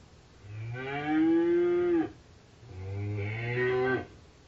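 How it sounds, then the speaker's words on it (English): A cow's moo played through a Google Home smart speaker: two long, loud, drawn-out lows with a short gap between them. "A cow sounds like this."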